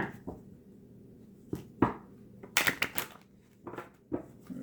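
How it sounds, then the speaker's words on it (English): Tarot cards are shuffled by hand in short, quiet bursts of riffling and tapping, with brief pauses between each handful. "One more shuffle."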